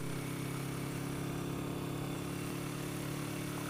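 A 1980 Yamaha XS400 Special II motorcycle engine runs close by as it comes back to life, with a steady, rough, buzzing idle that continues unbroken throughout.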